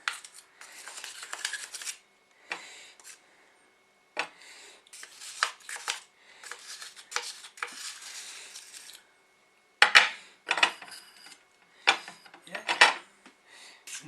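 A metal spoon scrapes and scratches at hardened Astonish multi cleaner in its container in repeated short bursts with pauses between, close and crisp, with occasional brief talk.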